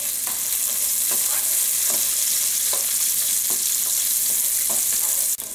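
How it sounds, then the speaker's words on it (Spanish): Onion and chives sizzle steadily in a hot frying pan, a dense continuous fry with occasional stirring scrapes, loud and close with no talk. "Voy a sofreír la cebolla."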